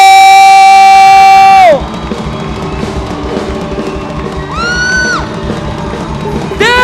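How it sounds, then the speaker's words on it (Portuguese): Church congregation cheers and whoops loudly after a sustained musical note cuts off, a roaring crowd of voices with rhythmic clapping underneath and bright synth or organ swells returning midway and at the end. "Quem pode aplaudir o Senhor por essa manhã especial?"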